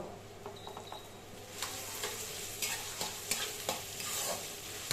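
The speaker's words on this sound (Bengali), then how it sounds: "পেঁয়াজ কুচিটাকে ভেজে নেব। ওপর থেকে কুচি করা কাঁচা লঙ্কা দিয়ে দিলাম। এবার এটাকে ভেজে নেব।" Chopped onion and green chilli fry in a pan over low-medium heat, a steady broadband sizzle with scattered stirring scrapes and clicks growing busier toward the end, close and with no voices.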